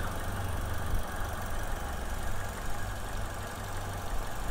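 The 2011 Toyota Vitz's four-cylinder 1NR petrol engine idles close by, a steady, even hum with no other sounds.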